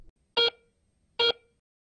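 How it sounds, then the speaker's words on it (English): A Garrett Euro Ace metal detector sounds off over a small bronze coin with two short, bright beeps spaced nearly a second apart, crisp and close against silence. "Medium conductivity targets, such as this small bronze coin, sound like this."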